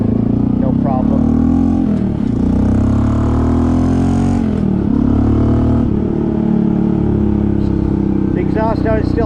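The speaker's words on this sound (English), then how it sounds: "Exhaust on it still has that little bark to it" A Honda CT125 motorcycle with a 142cc big bore engine revs and runs close by, its exhaust rising and falling in pitch in several surges, with someone talking over it.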